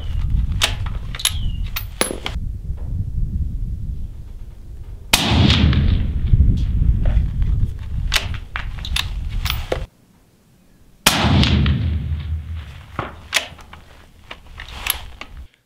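Rifle shots at an outdoor shooting range, several sharp loud cracks with rumbling echoes and noisy wind-like background between them, with a brief quiet gap partway through.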